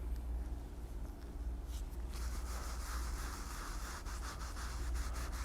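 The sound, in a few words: rubbing highlight finish into leather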